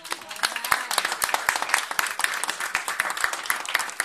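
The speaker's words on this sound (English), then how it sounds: "let's give our Bronx DA's office a hand clap tonight for doing that" Audience applause at a clergy council fellowship dinner, a steady stream of many hands clapping at moderate level for about four seconds, with no speech over it.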